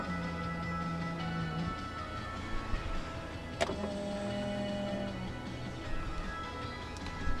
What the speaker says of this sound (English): To fold the side mirrors in from the inside, push this switch all the way to the left.